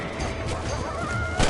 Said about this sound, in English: Quick! They're going after the chickens.